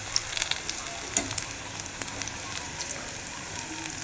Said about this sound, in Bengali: এবার আমি গোল গোল করে নিয়ে ওটা ভেজে নিচ্ছি।